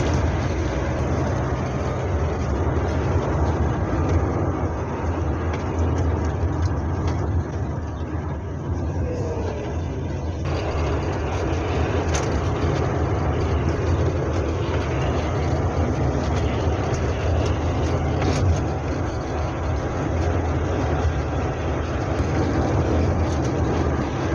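Hillman Superminx car driving on the road, heard from inside as a constant low engine drone and road rumble with wind noise, steady and loud throughout with a brief shift partway through.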